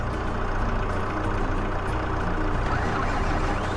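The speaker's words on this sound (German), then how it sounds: "da müssen wir immer den Motor erstmal einschalten" A tractor engine in Farming Simulator 22, on an Alpine map during straw baling, drones steadily and loudly, a constant close diesel hum with no break and no talk.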